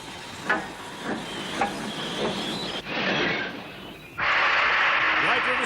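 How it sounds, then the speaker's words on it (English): Steam hisses and rumbles as a train arrives at a rural station in a period drama, with puffs at first and then a loud sustained hiss of released steam, while a voice speaks briefly over it. "Ah, the train should be arriving at the station about"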